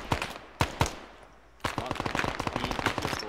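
Machine gun fire from a BTR-40 armored vehicle in the military game Arma 3, a few sharp separate shots followed by a pause and then a long rapid close burst.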